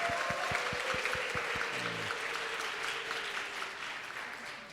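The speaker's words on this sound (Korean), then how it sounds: "모든 워십팀에게 다시 한번 격려의 박수" Dense, steady applause from a congregation at a semester-opening revival service, honoring the worship team, filling the room from start to finish, with a few low thumps early on and a faint sustained tone beneath.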